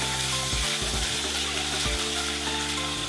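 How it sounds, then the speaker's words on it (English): Garlic, anchovy paste and pieces of old sardine fillet fry in olive oil in a pan over low heat, a steady close sizzle that runs throughout with a few faint low bumps from the pan. "fry the garlic in low heat until it's caramelized"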